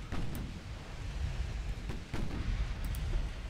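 Warship secondary guns fire in the naval battle game Ultimate Admiral: Dreadnoughts, a few sharp booming reports over a continuous low rumble of battle noise.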